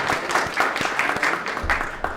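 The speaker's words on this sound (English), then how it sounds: "give each other a round of applause for doing that" Workshop audience clapping together in a room, a dense burst of applause filling the whole moment with no voices over it.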